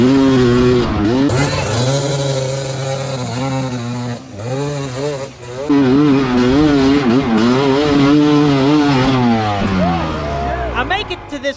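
Loud, close dirt bike engine revving hard and repeatedly on a steep climb at an extreme enduro race in Tennessee, the pitch surging and dropping in rapid waves, with a brief lull midway.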